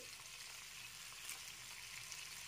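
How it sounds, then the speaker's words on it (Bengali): Whole phoron spices fry in leftover prawn-frying oil in a kadai wok, giving a faint, steady hiss of sizzling with a sharp spit at the very end. "বাকি তেলটা কড়াইয়ের মধ্যে দিয়ে দিচ্ছি। দিয়ে দিতে হবে ফোড়ন।"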